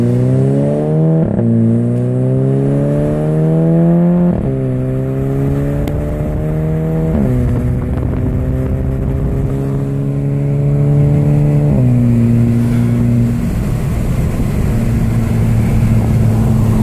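A Volkswagen GTI accelerating on the road, its engine rising in pitch through several gears with clear drops at each shift, loud and close throughout before settling into a steady drone.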